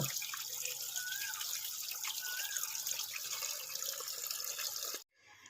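Steady running tap water splashes continuously into a sink while fish are rinsed, a close, even gush of water that cuts off abruptly near the end.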